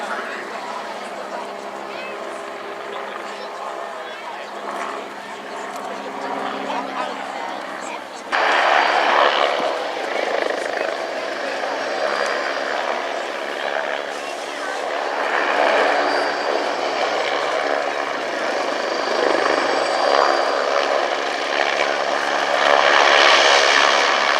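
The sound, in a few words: AgustaWestland A109E Power helicopter flying at airshow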